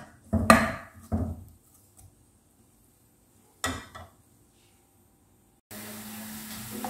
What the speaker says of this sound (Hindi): ऑयल डाला, कटी प्याज डाल दी, प्याज को हम ब्राउन करेंगे